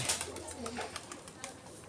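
Pigeons coo softly nearby with some light fluttering, and a faint voice can be heard in the background.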